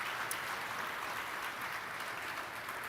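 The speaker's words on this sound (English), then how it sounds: "please give them a round of applause" Applause from the audience at a community volunteer awards ceremony, a soft, even wash of many hands clapping that holds steady for about three seconds, heard from a distance.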